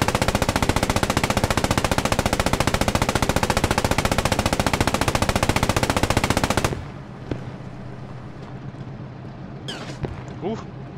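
Sustained, loud automatic gunfire from a German Tiger II tank in the World War II game Post Scriptum, a rapid unbroken rattle lasting several seconds that cuts off abruptly, followed by faint distant shots and quieter battlefield noise.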